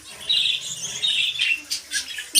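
Pet lovebirds chirping close by, a string of sharp high squawks and short tweets in quick irregular bursts, loud and alone.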